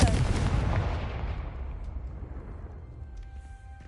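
The Confringo explosive spell cast in Hogwarts Legacy on PS5 lands as a loud, deep booming blast that rolls off and fades slowly over several seconds.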